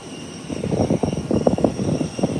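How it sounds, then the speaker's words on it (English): Aircraft engines roar steadily at an international airport, a loud, continuous rumbling drone with pulsing surges throughout, close by and with no talk over it. "Being an airport vet, you never get used to the engine noise."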